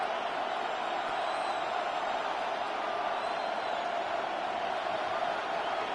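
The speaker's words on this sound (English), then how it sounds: "This crowd into it now as we get to third down." A steady stadium crowd roar from Madden NFL on third down, a continuous dense wash of cheering at moderate volume with no distinct peaks, holding evenly throughout.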